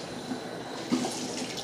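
Cool tap water runs steadily from a faucet during hair washing, a constant close splashing rush with a brief louder splatter partway through. There is no talking.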